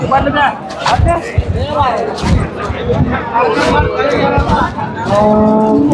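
Cattle moo amid a busy crowd, with people chattering and talking all around in a noisy outdoor cattle market at Seenapuram, Erode.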